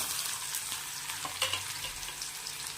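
Finely chopped onion fries with cumin and garlic in a pan over low heat, giving a steady soft sizzle with a few faint stirring scrapes, close and continuous without any talking.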